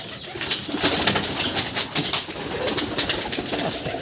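Pigeons coo on a pigeon farm, several birds calling in soft overlapping murmurs at close range, with a continuous rustling background and no speech.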